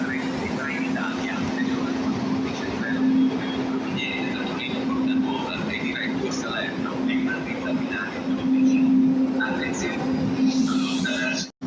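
A Frecciarossa high-speed train at Milan railway station rumbles steadily under a constant electrical hum, with faint station voices in the background.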